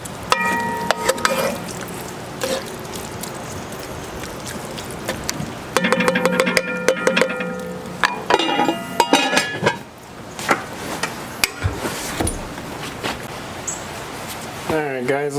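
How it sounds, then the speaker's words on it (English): Carne guisada meat browning in a pot on a grill, stirred with a utensil: repeated scraping and clinking against the pot, with sizzling underneath and bursts of metallic clatter, while someone talks intermittently. "Just gonna keep stirring it till it's all nice and brown"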